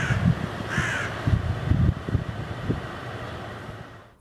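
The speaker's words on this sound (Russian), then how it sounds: "А как говорит ворона? Га-га, га-га, га-га." A crow caws in a children's animal sounds cartoon, with a few harsh calls near the start over a low, steady rumbling background.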